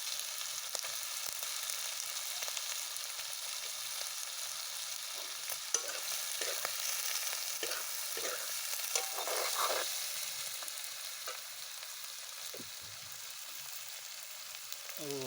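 Pieces of pig stomach stir-fry in a pan, a faint steady sizzle broken by scraping stirring strokes and occasional clinks of a spatula throughout.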